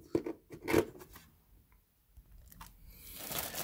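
Packaging for a mosquito-killer lamp being torn open by hand, with several close, sharp crunching rips and crinkling bursts separated by quiet pauses, and no talking.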